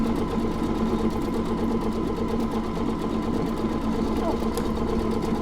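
A Pfaff Creative Icon 2 sewing machine stitches a heart design, a steady close motor hum with a rapid needle rhythm running unbroken throughout.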